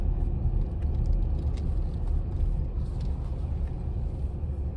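A car cruises through a Las Vegas residential neighborhood, giving a steady, fairly quiet low rumble of engine and tire noise from inside the cabin throughout, without any talk.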